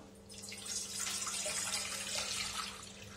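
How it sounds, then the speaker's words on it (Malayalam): Steady splashing of water running into a pan, a continuous hissing pour lasting a few seconds with no voices. "നമുക്കൊരു പാനിലേക്ക് വെള്ളം ഒഴിച്ചു കൊടുക്കാം."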